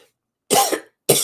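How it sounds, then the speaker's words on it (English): Two sharp, close coughs, the first a double hack, the second following after a brief silence. "Excuse me. Got a cough."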